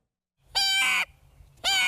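A voice imitates bird calls, a blue jay among them, with two loud, harsh, raspy calls about a second apart and a quiet pause between.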